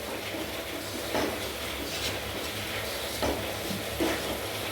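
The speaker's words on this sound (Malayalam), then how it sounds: "ഇപ്പം മുളകൊക്കെ നന്നായിട്ട് മുരിഞ്ഞിട്ടുണ്ട്" Chilies sizzling in hot oil in a pan while being stirred, a steady frying hiss with a few soft scraping pushes of the spoon, close by and without talk.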